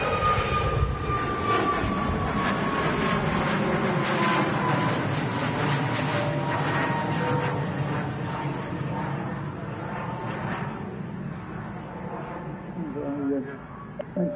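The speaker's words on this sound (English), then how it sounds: "This time a Ryanair 737, but this time one of their new MAX 8200 aircraft. And just lifting off, headed for Alicante in Spain." A Ryanair Boeing 737 MAX 8200 lifts off at Manchester Airport on a wet day, its loud jet engine roar steady and broad throughout, with a whining tone that slowly falls as the aircraft climbs away.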